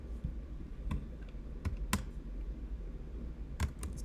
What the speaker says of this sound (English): why am I typing all of this?